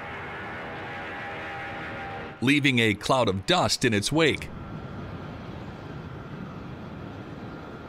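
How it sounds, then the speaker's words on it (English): A large US Air Force transport plane takes off from a dusty strip, its engines giving a steady, loud droning roar that runs before and after a brief stretch of narration over it. "the plane takes off again"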